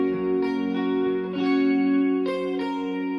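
Guitar playing a phrase of Silent Night, a melody of plucked notes with a ringing open string underneath and effects-style sustain, steady and close, with no voices.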